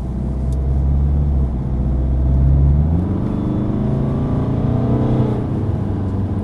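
A 2014 BMW 328d diesel engine revs up, its rumble rising in pitch and then climbing again as it accelerates toward its just-under-6,000 RPM redline, loud and close.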